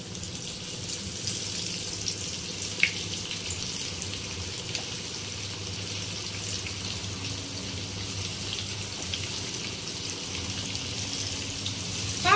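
Fish pieces coated in rice flour fry in hot oil on a flat griddle pan, giving an even, close hiss of sizzling that holds steady throughout, with a faint tap near the start.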